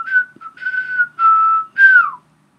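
A person whistles a short melodic tune of four sustained notes, the last one sliding downward, while walking into an office. The whistling is clear and close, with no other sound around it.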